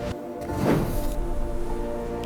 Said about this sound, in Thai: เสียงลงพื้น ตุบ